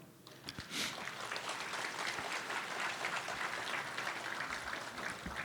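Steady applause from a crowd gathered at a Hmong American Day event honouring the late General Vang, dense, even clapping that holds at a constant level for several seconds with no voices on top.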